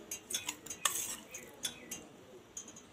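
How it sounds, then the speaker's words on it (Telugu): A spoon clinks and scrapes in a pot as a ground paste is stirred into boiling hair oil, with faint sizzling under repeated close metallic taps. "ఈ మిక్సీ పట్టేసుకున్నది నూనెలో వేసుకోవాలండి"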